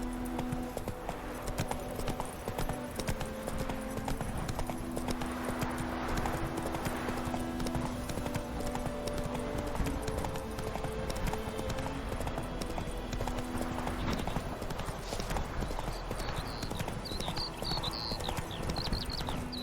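Hooves of the horse Roach in The Witcher 3 clip-clop in a steady galloping rhythm throughout, close and clear, over a low musical drone with faint game ambience and no speech.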